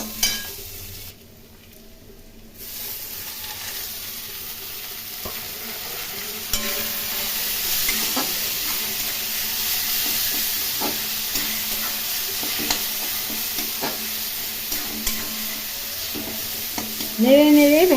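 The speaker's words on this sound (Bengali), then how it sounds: "পেঁয়াজগুলো আমি ভেজে নিচ্ছি।" Onions frying in a pan for a Bengali chicken curry, giving a continuous sizzling hiss with occasional stirring scrapes, fairly close and steady throughout.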